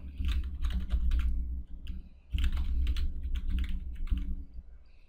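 Keys clack on a computer keyboard in quick bursts of typing, close and steady, with a brief pause midway.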